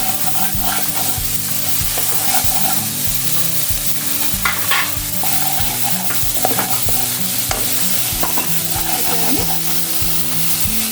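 Pointed gourd for potol posto fries with salt and turmeric in a pan, a loud, continuous sizzle over a low rhythmic hum, broken by frequent close scrapes of a stirring spoon.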